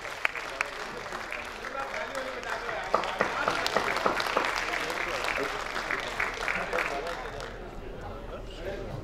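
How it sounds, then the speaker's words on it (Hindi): Applause honouring the host at a comedy poetry gathering in Navi Mumbai, building from scattered claps into sustained clapping by a sizable crowd, with a voice speaking over it. "उनके सम्मान में जोरदार तालियां हो जाए सुरेश मिश्रा के सम्मान में"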